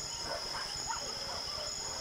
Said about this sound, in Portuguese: os cães começaram a latir no vale em um raio de 400 metros